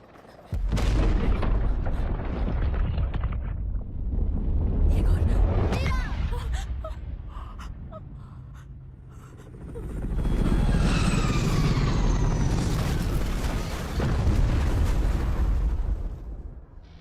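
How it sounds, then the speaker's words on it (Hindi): Explosion of a small tank aboard a transatlantic tanker in Istanbul's Golden Horn bay, heard in an action movie as loud, sustained roaring booms and rumbling that swell twice, mixed with a dense soundtrack. "गोल्डन हॉर्न खाड़ी में एक छोटे टैंक का विस्फोट ट्रांस एटलांटिक टैंकर में हुआ है"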